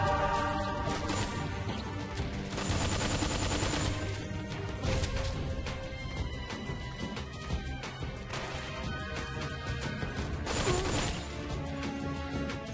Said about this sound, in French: Genre, je me fais tirer.